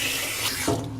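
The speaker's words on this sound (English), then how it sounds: "Remember when you're rinsing your dog off, that you get all the soap off of them." Water sprays from a nozzle onto a Bichon Frise during grooming, a steady close hiss of running water with a brief splashier shift near the end and no talking.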